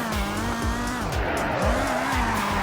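In the Roblox game Car Crushers, a drifting car sends out a sustained tire squeal over a revving engine whose pitch swoops down and back up with gear shifts, loud and near, with no one talking.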